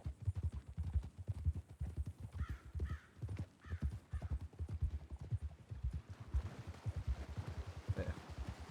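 A horse canters in a Red Dead roleplay game, its hooves beating a steady, rapid three-beat rhythm up close. The pace continues throughout without pause, with faint wind or ambience beneath and no talk.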